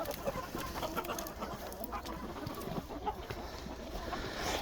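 Chickens kept on a countryside farm clucking softly and continuously in the background, faint and somewhat distant, with scattered short calls over a steady noisy ambience.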